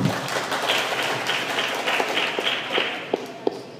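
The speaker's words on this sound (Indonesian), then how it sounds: "Berikan aplaus buat Pak Nur." Scattered applause from a council session audience honoring Pak Nur, a steady patter of many hands with a few sharper individual claps standing out near the end.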